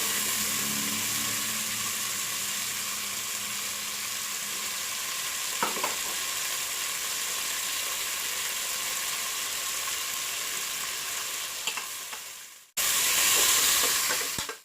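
Onions and garlic fry in a pan for mosque fasting porridge, a close, steady sizzle with occasional stirring scrapes. It cuts out briefly near the end, then returns louder.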